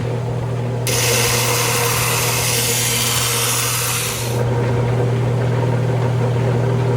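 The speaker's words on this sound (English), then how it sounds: "I'm going to continue to grind on this 80 grit hard lap" A piece of Condor agate is pressed against a spinning 80 grit hard lap, adding a harsh, loud grinding rasp for about three and a half seconds over the steady hum of the machine motor, which keeps running alone afterward.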